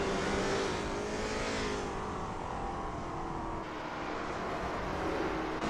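Lola T70 MkII Spyder race car engines at Watkins Glen in a racing video game drone steadily at high revs, a loud, sustained roar with slight pitch shifts as the cars hold speed.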